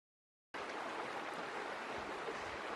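Steady broadband rush of the Zemborrain river flowing through a valley, a continuous water sound that begins abruptly after a brief silence and holds even and close.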